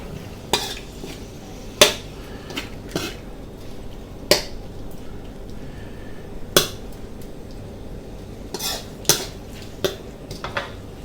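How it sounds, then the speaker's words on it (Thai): Shrimp is stir-fried with soy sauce in a pan, with sharp metallic clanks of a spatula against the pan every second or two over a low background sizzle. "อิ๊วขาวหนึ่งช้อนโต๊ะครับผม ผัดให้เข้ากันครับผม"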